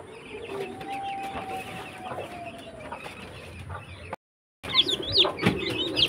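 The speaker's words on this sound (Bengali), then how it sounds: "এখন মুরগিগুলোকে খেতে দিব," Chickens and small chicks being fed by hand, with soft clucking, cheeping and a drawn-out call over rustling, then a brief dropout before busier, louder chirps and pecking noise close by.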